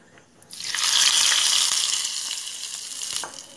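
Hot oil with cumin seeds is poured into bottle gourd raita, bursting into a sudden loud, close sizzle that peaks, then slowly fades while it crackles on alone.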